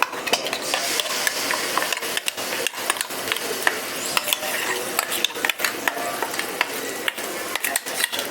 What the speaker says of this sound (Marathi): आता आपल्याला याच्यामध्ये वाटण टाकायचं आहे